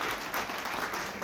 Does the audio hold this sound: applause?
yes